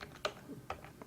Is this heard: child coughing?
no